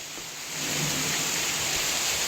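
Heavy rain pours down in a dense, steady hiss, swelling louder after a quieter start, with a low rumble underneath that may be thunder.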